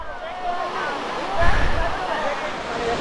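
Ruposhi waterfall at Kamaldah near Rangamati sends out a steady broadband rush of falling water, swelling briefly midway, with faint voices in the background.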